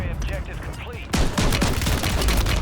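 Rapid gunfire in Warzone video game aimed at attacking raptors: after a quieter opening, a sudden loud burst of automatic shots crackles in dense repeated volleys, close and sustained to the end.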